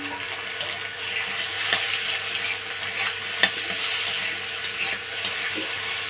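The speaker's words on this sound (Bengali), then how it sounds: "কচু কিন্তু ভালো করে ভাজা লাগবে" Boiled taro pieces fry in a pan for a crab curry, making a constant sizzle with occasional stirring scrapes and clicks and no speech.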